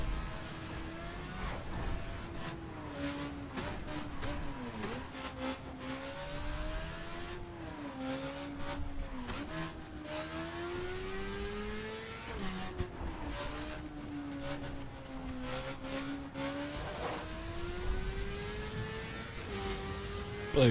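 A racing motorcycle in The Crew on a twisty circuit, its engine whining steadily and rising and falling in pitch through gear changes and corners. It stays loud and continuous for the whole stretch, with no talk.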